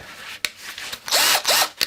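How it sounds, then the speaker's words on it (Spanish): A cordless Touch Life drill running on a modified Parkside (Lidl) battery whirs close up in short bursts, spinning up and dropping off several times with clicky mechanical noises between runs and no speech. "Hacemos la misma prueba en el taladro de Touch Life, exactamente igual."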